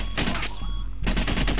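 Rapid bursts of gunfire in the VR shooter game Covert Syndrome, two dense volleys of loud, crackling shots separated by a brief lull.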